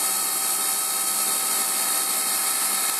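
An Emco Compact 5 CNC lathe cuts metal, turning an internal radius, with a loud, steady high-pitched whine and whirr that holds constant throughout.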